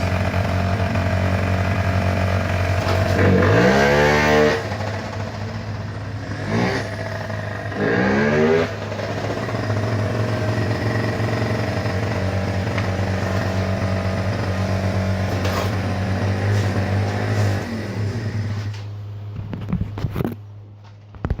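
A small oil-injected two-stroke Yamaha Jog moped engine idles steadily with a buzzy drone, blipped up in a couple of quick revs before settling back to idle.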